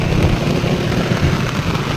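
Steady outdoor rain hisses evenly and densely in a foggy, misty monsoon landscape, with no talking.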